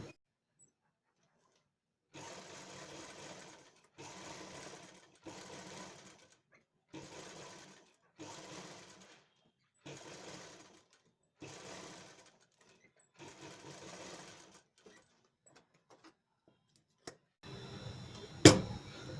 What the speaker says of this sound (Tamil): இப்போ இதை நம்ம சுற்றி தையல் போட்டுக்கலாம்